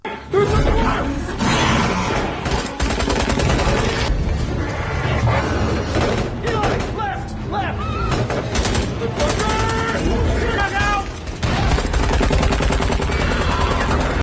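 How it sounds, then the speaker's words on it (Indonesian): Rapid gunfire from soldiers shooting at raptors in an action film set during the Vietnam War, dense bursts layered with crashes and a loud soundtrack across the whole stretch. "mereka pun menembaki para raptor itu agar hewan-hewan itu tidak masuk ke dalam tempat ini"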